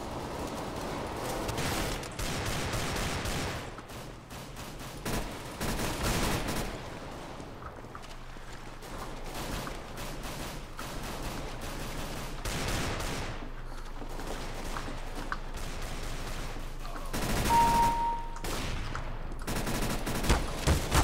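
Sustained gunfire in the PC shooter Arms Race, dense bursts of rapid shots running almost continuously at steady loudness with brief lulls, no voices.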